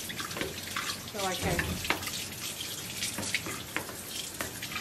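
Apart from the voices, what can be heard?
water running from tap, rinsing a fine strainer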